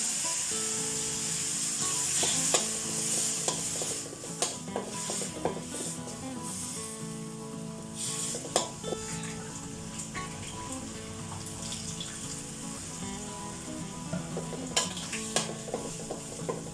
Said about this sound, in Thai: ใส่เครื่องแกงลงไปผัดให้หอมก่อนนะคะ แม่วุ็ใส่นมไปด้วย